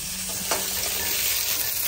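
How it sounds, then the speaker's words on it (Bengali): Fish pieces sizzle steadily in a hot pan of oil, a dense, even hiss close up with no talk over it. "আর এখন মাছ ভাজা দিচ্ছি"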